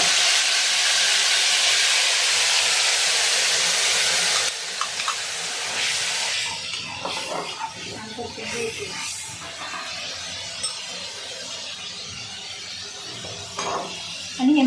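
Onion-tomato paste for chicken biryani sizzles loudly in a pan with a strong, steady hiss, then settles into a softer frying crackle with scattered clinks and stirring sounds.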